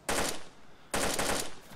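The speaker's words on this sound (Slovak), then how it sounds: "To kdo strieľa s SKS-kom?" SKS rifle fire in the video game DayZ: two loud, sharp bursts of gunfire about a second apart, each with a short ringing tail, heard alone without talk.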